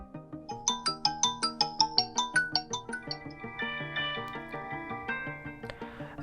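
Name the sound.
Redmi 14R 5G ringtone volume preview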